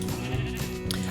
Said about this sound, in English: we've got some brown sheep here who we're going to shear